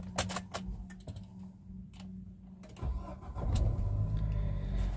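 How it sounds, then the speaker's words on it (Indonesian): A 2008 Nissan X-Trail T31 with a 2.0 engine and manual gearbox is started, a few clicks and taps followed by the starter cranking and the engine catching into a steady idle that grows louder near the end. "Kita nyalakan untuk mesinnya."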